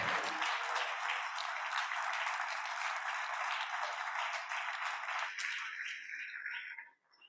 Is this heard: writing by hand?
no